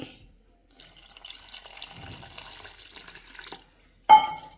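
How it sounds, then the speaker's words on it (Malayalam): Water splashes into a pan for mango curry in a short, moderate pour of about three seconds, followed by a sharp clink at the end. "ഇനി നമുക്കിതിലേക്ക് വെള്ളം ഒഴിച്ചു കൊടുക്കാം"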